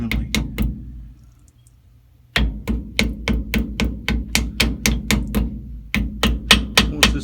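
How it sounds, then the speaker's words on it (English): Hammer lightly tapping a pinion seal into a Ford 8.8 rear end, giving a steady run of sharp metallic taps after a short pause. The taps are close, even and evenly spaced, with no talk. "you want to take the hammer, you want to lightly tap it all the way around it evenly."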